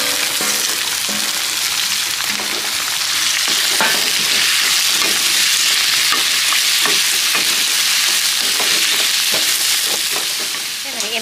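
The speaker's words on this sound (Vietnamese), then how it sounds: "em giờ em cho mực với tôm vô." Squid and shrimp stir-fry in a hot pan with fried shallots, giving a loud, steady sizzle with frequent scraping stirs throughout, close up and with no talking.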